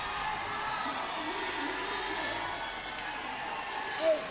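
A large, loud crowd roars and cheers steadily at a pickleball national championship grandstand court, a continuous wash of voices with a brief louder whoop near the end.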